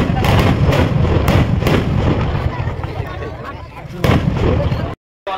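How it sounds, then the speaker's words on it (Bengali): Fireworks at a night-time Rath Yatra fair crack and boom in a dense, loud series of bursts, with the sharp reports coming one after another over a continuous fizzing rumble. "আতশবাজি অনুষ্ঠানটিতে এই আতশবাজিটি দেখার জন্য সবাইকে অনুরোধ করবো"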